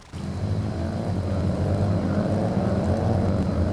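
A car engine in a modded Skyrim game drones steadily, a low continuous hum close by that starts suddenly and holds without change, with no voices.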